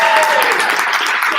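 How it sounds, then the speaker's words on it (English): Audience at a startup weekend final pitching event applauds, a short burst of dense clapping. "Big round of applause."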